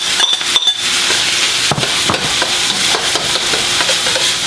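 Onions and eggs sizzle loudly in a pan for fried rice while a utensil stirs and scrapes, making clicks and knocks over a steady crackling hiss, with no one talking.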